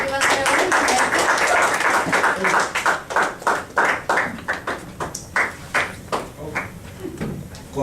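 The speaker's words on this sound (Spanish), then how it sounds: "Todos, por favor, un aplauso para nuestro predicador que va a ser hoy." A crowd at a Catholic youth retreat applauds a preacher, with dense clapping that thins into a slower, rhythmic group clap; it is fairly loud and close, with no talk over it.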